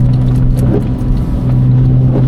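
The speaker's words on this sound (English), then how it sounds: "But your exhaust sounds really good as well." A Porsche sports car with a 997.1 911 or 987.1 Boxster exhaust accelerating around a roundabout in the rain, a steady low engine drone heard from inside the car, loud and continuous.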